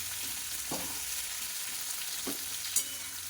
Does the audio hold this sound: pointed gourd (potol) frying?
yes